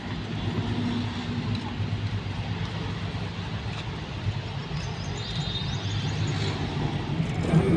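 A moving bus carrying a family on its way to a village fair fills the clip with a steady low engine drone and road rumble, with no talk.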